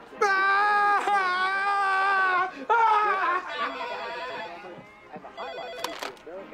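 A telephone rings loudly in a steady warbling pattern, two long bursts close together, then trails into fainter, busier sound with other noises in the final seconds.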